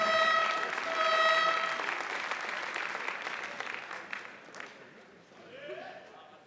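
Spectators applaud at the Nimes 2016 compound men's bronze final in archery, a soft, moderately distant patter of clapping that fades over the seconds while a commentator talks over it.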